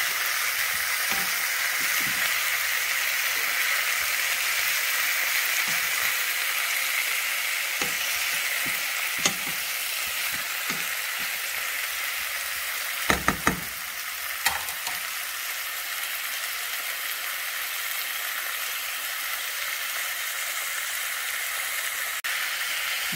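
Squash sizzles in a pan with sardines for a coconut milk dish, a loud, continuous frying hiss with occasional soft stirring clicks and a brief cluster of utensil taps midway.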